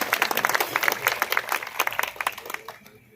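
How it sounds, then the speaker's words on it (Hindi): An audience applauds, with a lively run of close, crisp claps that thins and fades toward the end. "A big round of applause."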